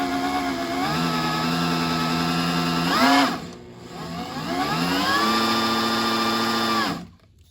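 A drill-driven oil pump primer spins to prime a freshened Buick Grand National engine, whining loudly with rising pitch, pausing briefly, then winding up and running again before stopping.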